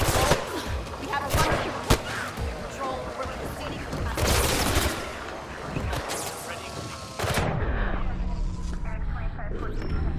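Gunfire in the parkour game Mirror's Edge Catalyst, repeated loud shots and bursts over a dense game soundscape, with a sharp crack near two seconds and a heavy burst mid-way, while a player talks over it.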